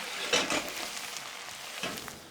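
Vodka splashed into a pan of frying onions for a sofrito gives a soft, steady sizzle with a couple of brief louder hisses as it hits the hot pan.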